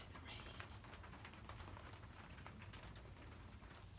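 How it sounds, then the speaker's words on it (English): Soft, steady patter of rain falling nearby, a faint continuous hiss with scattered droplet ticks. "Listen to the rain."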